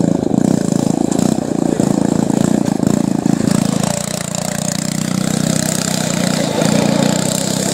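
A riding lawnmower tractor modified as a high-speed speedmower runs steadily nearby, its mid-pitched engine drone continuous and fairly loud throughout, dipping slightly midway before settling back into a constant idle-like hum.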